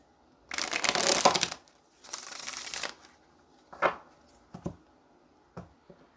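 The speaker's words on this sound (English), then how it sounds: "But let's go ahead and get one more shuffle here." Tarot or oracle cards being shuffled by hand nearby: two long riffling bursts, then a few shorter taps and slides as the deck is squared, with no voices.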